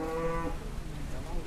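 Cow at a cattle yard in Situbondo gives a brief low, tonal moo at the start, then fades into background noise.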